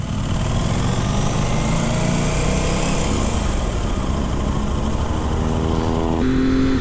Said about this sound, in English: This bike sounds ridiculous.